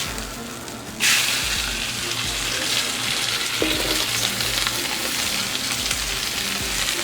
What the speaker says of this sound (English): We're going to throw in our mirepoix here to go with it.